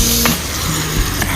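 Chopped spring onion sautés in a pan for mushroom biryani, a steady close sizzle with a few light stirring scrapes, with no talking.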